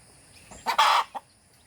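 A native chicken gives a single short, close cluck-like call, with a brief squawk followed by a small trailing note, over a quiet farmyard background.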